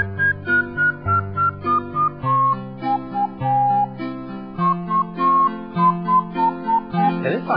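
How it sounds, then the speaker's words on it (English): Video game music made almost entirely of a whistled melody: a clear, stepwise whistled tune carried over steady sustained backing chords and a pulsing rhythm, with no talk. "this song's almost all whistle"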